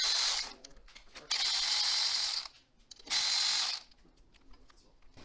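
A ratchet wrench loosens 10 mm bolts on the ignition coil of a TaoTao TBR7 dirt bike. Two loud, close bursts of rapid clicking are separated by short quiet gaps.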